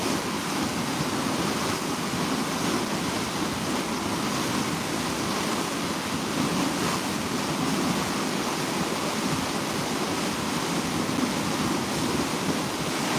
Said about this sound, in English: You're just hearing like all the water moving on the sterns behind us, and then I'm sure you're getting a lot of wind noise as well